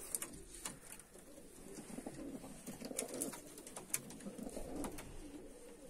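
Fighting pigeons kept at a loft in Georgia coo softly and repeatedly, faint and low against a steady background hiss with a few scattered clicks.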